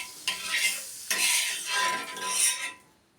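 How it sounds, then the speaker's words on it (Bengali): Butter sizzles on a hot tawa griddle while being spread around, close crackling hiss in bursts broken by brief scraping strokes, fading out at the end. "আমি তাওয়ার মধ্যে বাটার দিয়ে দিলাম। বাটারটা আমি চারিদিকে ছড়িয়ে দেবো"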